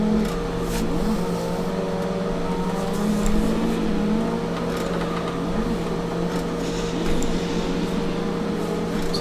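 Car engine in the Assetto Corsa racing game, held at a steady high drone with revving during a clutch-kick drift, loud and continuous without pause.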